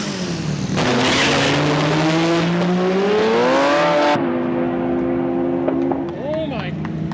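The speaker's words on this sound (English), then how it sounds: "Preston's just gonna do a dry run on the slicks." A Honda-powered Beetle on an MR2 chassis runs on slicks at a drag strip, its engine roaring loud and close with rising pitch through the pass before cutting back to a lower, steadier drone, while voices talk over it.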